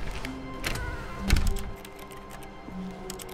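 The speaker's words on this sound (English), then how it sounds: "It's making a keyboard sound." Soft clacking like keyboard typing comes from a cabinet in The Stanley Parable video game, a few light taps and a low thunk set against a steady low hum, with nobody speaking.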